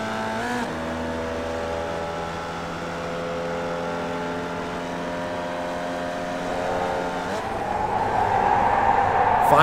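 A Formula Vee race car engine in iRacing at Okayama International drones steadily through a corner, then the pitch climbs as it accelerates back on the throttle, loud and close, with a voice talking faintly underneath.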